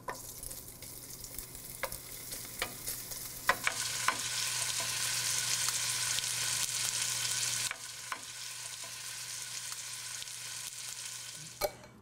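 Diced speck frying in a little olive oil for a tomato tart, giving a steady bright sizzle throughout with occasional sharp pops and spatters, close and fairly loud, then settling slightly quieter toward the end.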